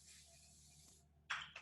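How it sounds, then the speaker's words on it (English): Cooking oil from a spray can hits a hot pan, a soft hiss followed by a couple of sharper spritzes near the end, faint and close. "So I've got my pan going. I'm going to spray a little bit of oil"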